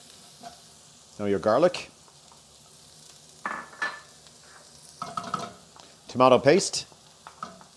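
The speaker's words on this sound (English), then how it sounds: "Give those a little stir." Spices with chili powder and thyme are stirred in a sizzling pan for a vegan chili, with soft frying and scraping heard under several bursts of a person talking.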